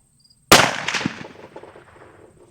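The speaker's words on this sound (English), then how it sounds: "second shot at 100 yards with the bore driver ELD-X's at 100 grains of the Blackhorn 209" A muzzleloader rifle firing a 100-grain charge of Blackhorn 209 powder with an ELD-X bullet at a 100-yard range: one sharp, loud shot that rolls off into a fading echo.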